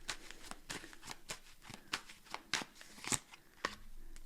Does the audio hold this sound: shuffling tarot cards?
yes